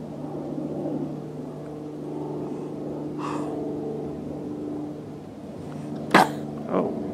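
A person sneezes outdoors beside a pond where a huge bullfrog waits to ambush minnows: one sharp, loud burst near the end followed by a smaller second one, over a steady low hum with no talking.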